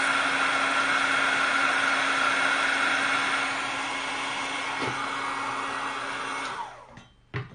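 Heat tool blowing a steady fan whir as it melts embossing powder on card snowflakes, loud and continuous, easing slightly midway before winding down and clicking off at the end.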